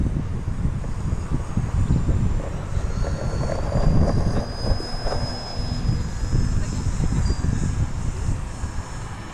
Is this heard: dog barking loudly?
no